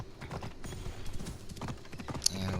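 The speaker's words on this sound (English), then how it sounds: "Let's see if we can ride our horse over." Horse hooves clip-clop in a steady, busy rhythm as a mount is ridden across ground in Assassin's Creed The Fate of Atlantis, mixed with game ambience and a brief whinny-like accent near the end.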